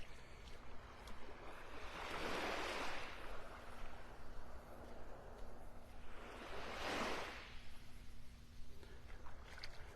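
Gentle beach surf in North Naples, Florida, heard as soft, distant wave washes that swell and fade twice over a low, steady background of wind and water.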